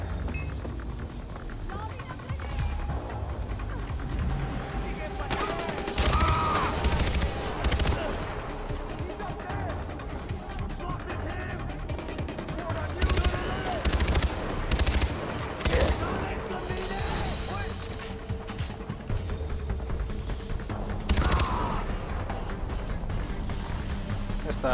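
Repeated gunfire bursts from a newly bought weapon in the video game Far Cry 4, rapid volleys over a busy game soundscape, with someone talking over parts of it.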